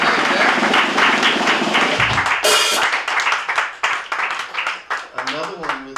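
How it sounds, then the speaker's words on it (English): Audience applause greeting a guest walking out at a Rhapsody at Lincoln Towers show, with clapping and crowd noise in the first couple of seconds, then a host talking over scattered claps and background music. "Arie Bee, round of applause."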